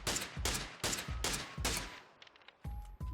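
Rapid bursts of PUBG gunfire from a scoped rifle, about six sharp shots in quick succession, then a short gap with faint clicks before two more loud shots, all with no talking.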